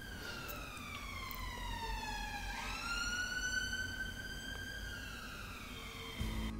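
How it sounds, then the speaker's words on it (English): A wailing siren sweeps steadily up and down in pitch, loud and continuous, like a passing emergency vehicle with traffic rumble beneath. "I'm going to pause for the siren."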